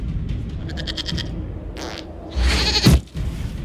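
A goat bleats in the Dragon Age: Inquisition video game, a loud, wavering call standing mostly alone, followed by a sharper burst of noise near the end.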